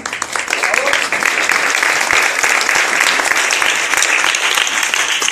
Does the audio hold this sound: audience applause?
yes